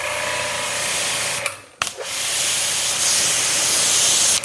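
Pressure washer spraying through a 5.0 Mosmatic nozzle on an E46 M3, a loud steady hiss with a brief dip near the middle before the spray returns full and constant.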